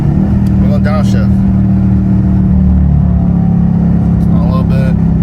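A car's engine hums loudly inside the cabin with a low steady rumble and slight rise after a paddle-shifter downshift, while a person talks over it in short bursts.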